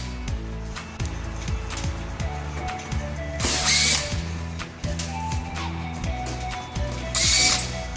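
A power screwdriver removing Torx T20 screws from the back cover of a Coffeemar coffee machine, with rapid ratcheting clicks under the motor's whir and two brief louder high-pitched bursts, close by.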